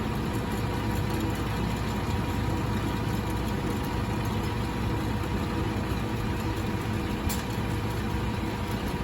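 A vehicle engine runs at a steady idle during a static demonstration of a transfer case and locked differential, a continuous low rumble with no talking.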